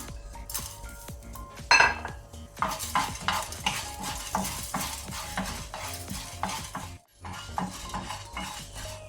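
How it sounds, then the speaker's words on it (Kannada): Coriander seeds roast in coconut oil in a pan, with steady scraping and clinking from stirring, metal-on-pan knocks and a soft sizzle underneath, close and continuous. "ಈಗ ಕೊತ್ತಂಬರಿ ಬೀಜ, ಕೊರಿಯಾಂಡರ್ ಸೀಡ್ ಹುರಿಯುವ."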